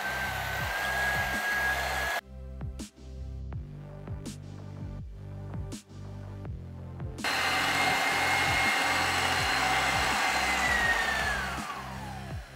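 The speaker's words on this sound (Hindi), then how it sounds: "तो मैं इसको बीट कर लूँगी।" Electric hand beater whipping butter for nankhatai, a steady loud whining motor hum that drops out for a few seconds and then starts again, with faint rattling of beaters in the bowl and no talking.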